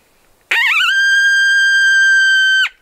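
A high-pitched coyote howl blown on an open-reed call starts with a wavering rise, then holds one piercing, steady tone for about two seconds before cutting off, loud and close with no other sound.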